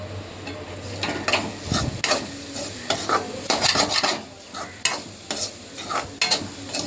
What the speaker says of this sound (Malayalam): ശകലം പെരിഞ്ജീരകം കൂടി ഇട്ടിട്ട് തേങ്ങ വറുത്തെടുക്കുക.